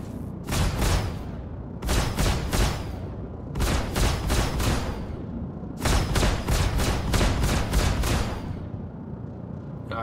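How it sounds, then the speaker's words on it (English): A Gatling gun on a P-52 Merlin aircraft in a flight game fires in repeated dense bursts, each a rapid rattling volley, loud and close, separated by brief pauses over steady engine drone. "have to wait for a Gatling gun to reach its full spin before the bullets start firing out"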